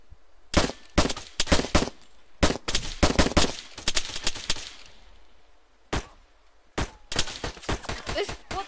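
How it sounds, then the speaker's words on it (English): Rapid bursts of pistol gunfire in a video game, a string of sharp loud cracks in quick clusters with short gaps between, close and alone. "I think Rex is on a pistol"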